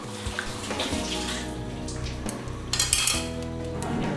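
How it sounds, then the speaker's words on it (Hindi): Rice added to a pot of boiling water for egg and vegetable fried rice, with bubbling water, a clatter of grains and pot sounds close by. "चावलों का पानी उबल गया और इसमें अब चावल शामिल करूँगी।"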